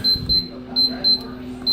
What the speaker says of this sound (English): my timer right here, clear it, clear. I'm setting for 15 minutes